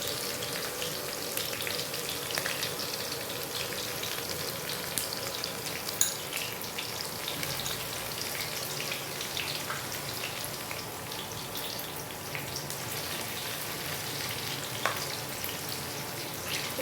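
Chopped ginger, garlic and green chillies frying in hot oil in a kadai give a soft, even hiss that runs steadily throughout, with faint ticks and no voices.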